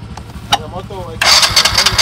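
A motorcycle engine cranks and then bursts into a loud, rough, sputtering run that fills the second half. A brief voice is heard just before it catches.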